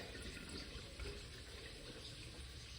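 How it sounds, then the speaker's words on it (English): Water from a can of home-canned green beans and a pot of potatoes pours steadily into a sink as they are drained, a continuous splashing gush for a few seconds with no talking. "So I'm going to go drain the potatoes and the green beans."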